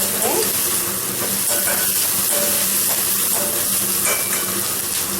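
Onions sauté with salt in a pan for tomato chutney, a continuous close sizzle and hiss with occasional stirring scrapes, no voices over it.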